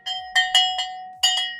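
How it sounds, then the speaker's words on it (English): A small handheld bell rings out in bright metallic clangs, four strikes in quick succession followed by a pause and two more, each clear ringing tone fading quickly, close to the listener and alone. "Let's ring our bell."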